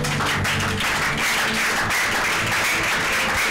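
Loud continuous applause from a church congregation acclaiming Jesus, dense clapping filling the room without pause, with some voices mixed in.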